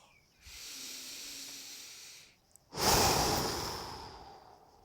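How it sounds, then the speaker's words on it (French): Two long breaths are pushed out through the mouth during a relaxation breathing exercise, each a soft airy hiss. The first is gentler and lasts about two seconds; after a short pause comes a stronger, louder exhale that slowly fades. "à chaque fois qu'on souffle par la bouche, on lâche toutes les tensions"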